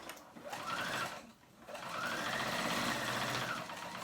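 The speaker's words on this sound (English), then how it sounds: "with a zigzag stitch we're going to go ahead and sew those together." A sewing machine zigzag-stitching elastic for homemade panties runs in two close, steady bursts, a short whirring run stopping near the one-and-a-half-second mark, then a longer even stretch of stitching.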